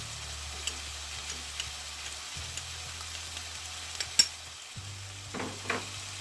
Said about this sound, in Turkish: Soğan ocakta kavrulurken